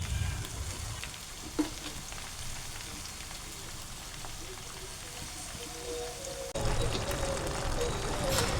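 Salted bottle gourd pieces sizzle and fry steadily in a pan, a continuous crackling hiss that jumps louder near the end as more moisture hits the hot oil.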